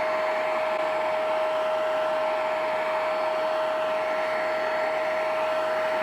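A Vax upholstery cleaning machine runs steadily with a loud, constant whirring drone and a fixed whine, close by and uninterrupted, until it cuts off at the very end.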